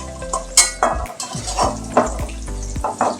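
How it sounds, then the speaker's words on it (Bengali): Elephant foot yam pieces lightly frying in a wok: a low oil sizzle runs throughout, broken by sharp, close clanks and scrapes of a spatula stirring against the pan every half second or so. "ওলটা একটু হালকা ভেজে নেব।"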